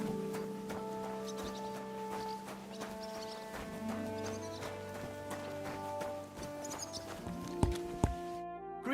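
Horse hooves clip-clopping in Kingdom Come: Deliverance 2, a steady rhythmic clatter of steps carried under in-game music and ambience, with a short louder burst near the end.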